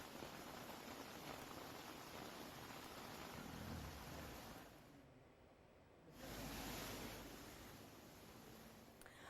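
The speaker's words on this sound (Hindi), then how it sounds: "राजस्थान के जयपुर में किस तरह से बारिश ने कोहराम मचा दिया।" Heavy monsoon rain pours steadily in Jaipur, Rajasthan, India, a dense, loud hiss that dips briefly partway through and then surges back, with no voices.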